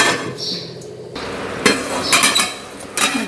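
A lid set onto a pot of masala eggplant curry, several sharp metallic clinks and clatters of cookware close by, with a brief scrape before them.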